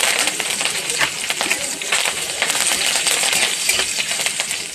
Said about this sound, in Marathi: आता आपल्याला कढीपत्ता तळायचे.